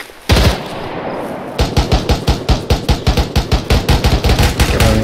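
Rapid automatic gunfire in the military video game ARMA 3, one loud shot followed after a pause by a steady stream of evenly spaced bursts, close and dominant with no talk.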